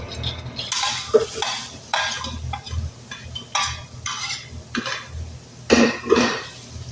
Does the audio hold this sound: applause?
no